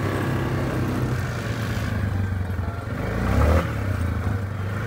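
A 2007 Yamaha Grizzly 450 ATV out mud riding behind a house, its engine giving a steady low drone with a brief rise toward the end, close and continuous with light clatter.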